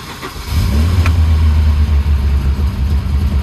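A 1984 Volvo 240, freshly restored and newly fitted with a starter, catches and settles into a steady, loud idle close by, its low engine rumble running continuously without talk.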